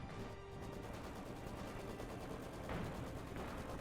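Distant DShK Dushka heavy machine gun firing in Company of Heroes 2 at a T-34 tank, a faint continuous rattle of rapid shots under battle ambience.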